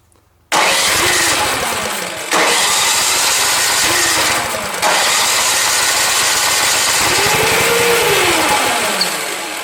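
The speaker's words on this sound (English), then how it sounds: "Okay, and my engine starts." A new snow blower's small engine sputters to life on choke and runs loudly up close, its pitch surging and dipping several times as it revs.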